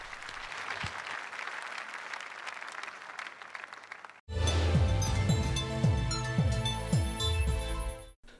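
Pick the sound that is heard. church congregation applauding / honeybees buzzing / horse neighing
church congregation applauding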